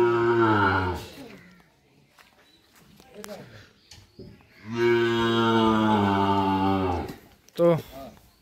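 Bulls and Sahiwal calves loaded on a truck give two long, loud, close moos separated by a few seconds of shuffling hoof and body noise, with a short low grunt at the end.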